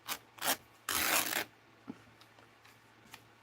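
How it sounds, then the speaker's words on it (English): A small strip of paper being torn, a short rough ripping burst after two quick rustles, followed by a few faint crinkles and handling taps, close and quiet. "Let's see if I can tear that little strip."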